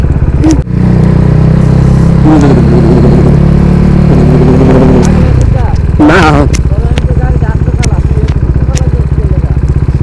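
A motorcycle ridden in cold weather, its engine a steady, loud drone with a rough low hum throughout, while people talk over it.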